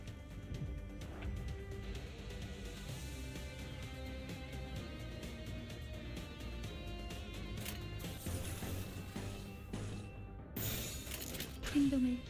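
A mirror shatters in a video game, with a sharp glassy crash and bright scattering shards near the end of a stretch of game sounds and music.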